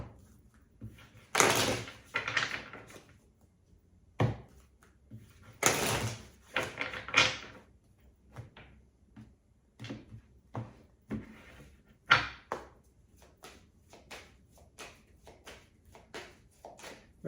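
Tarot cards being shuffled by hand, a run of crisp riffling and flicking bursts with scattered taps and card slaps in between, close and fairly loud, with no talking.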